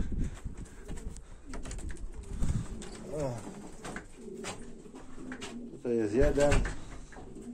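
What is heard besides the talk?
pigeons flocking back to the loft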